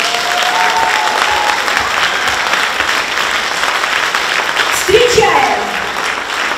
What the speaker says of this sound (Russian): давайте позовем и поддержим самыми бурными аплодисментами